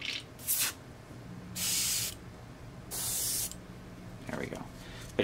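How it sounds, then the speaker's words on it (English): An airbrush sprays thinned paint in short, separate bursts of hiss, about four of them with quiet gaps between. The bursts are close and moderately loud. "We got to really have control of our spray or we'll get pooling"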